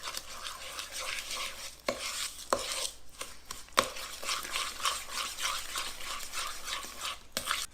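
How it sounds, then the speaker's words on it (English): Cake batter and eggs creamed together with a spoon in a pan: soft rhythmic scraping and mixing strokes, close by, broken by several sharp clicks of the spoon against the pan. "I'm just going to kind of cream this together with my spoon at this point."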